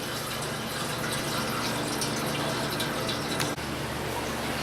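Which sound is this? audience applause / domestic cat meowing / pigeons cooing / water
water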